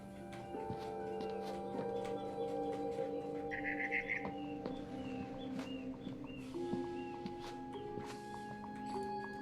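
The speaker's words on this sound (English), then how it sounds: "It was a barn swallow going back to her nest." A barn swallow in the video game What Remains of Edith Finch, chirping outside a window on her way back to the nest: brief, bright tweets over a steady backdrop of sustained game tones and soft thuds.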